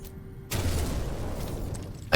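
Geology cannon fired in No Man's Sky, a sudden booming discharge after a quiet hum, followed by a rumbling noisy decay and a sharp burst at the end.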